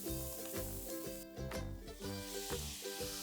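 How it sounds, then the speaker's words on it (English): Vegetables with corn and soy sauce stir-fried in a pan give off a steady close sizzle, with repeated scraping strokes of a utensil stirring through them and no talk. "Stir fry the veggies for a few minutes."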